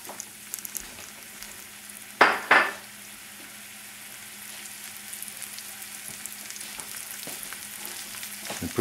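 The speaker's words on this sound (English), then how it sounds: "So we're going to saute." Chicken breast dusted with flour sautés in a pan, giving a continuous close sizzle, with two loud bursts of sizzling and clatter as food is turned or added, then steady frying with light utensil clicks.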